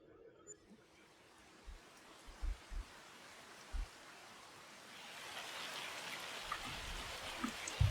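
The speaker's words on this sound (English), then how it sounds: "Okay, it's raining, or it's yeah, it's just this small snowballs" Rain or small hail falls in the video game Farming Simulator 25, a soft steady hiss of drops that swells louder in the second half, with scattered low thumps and patters.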